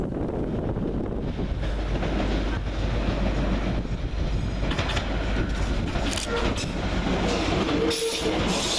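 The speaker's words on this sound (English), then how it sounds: "Following quickly on its heels is 710108, working the 1840 London Overground service from London Liverpool Street to" London Overground unit 710108 runs through Hackney Downs station on the evening service to Chingford, a loud steady rumble of wheels with rhythmic clickety-clack and brief squeals from the rails as it passes close by.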